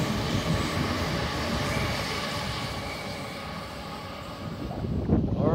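Sydney Waratah A57 train at Petersham station, a steady loud rumbling roar of the train passing close by, with wind buffeting.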